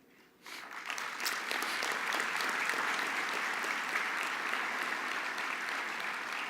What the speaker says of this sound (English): Please indulge me and hold your applause until I am complete with my salutations.